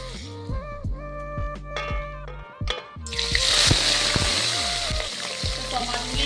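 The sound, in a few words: rohu fish frying in hot mustard oil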